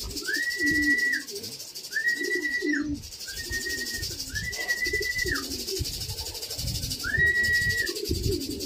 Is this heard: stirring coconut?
no